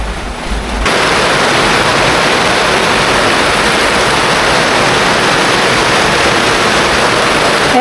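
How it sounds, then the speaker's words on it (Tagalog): Heavy rain pours in a dense, loud, unbroken roar that starts abruptly and continues for several seconds without a break, with no voices. "ayan guys, sobra ng lakas ng ulan oh."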